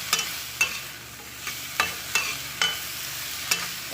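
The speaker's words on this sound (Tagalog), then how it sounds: "Medyo i-frito natin bahagya" Sliced chili peppers frying lightly in a pan, a low steady sizzle broken by repeated sharp stir-and-scrape clicks every half second or so, close and moderately loud with no talking.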